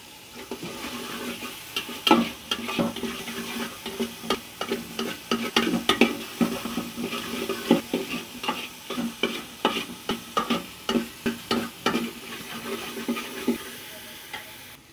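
Rice fried in ghee for a chicken pilaf, stirred steadily with a spoon in a pan: repeated scraping strokes in a loose rhythm over a constant close sizzle, with no voices.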